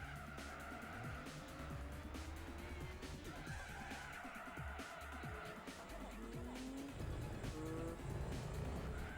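A Renault Clio races in Gran Turismo 4, its engine droning steadily with rising and falling pitch as it shifts through gears, tires squealing briefly in drifts, with continuous game audio throughout and no talk.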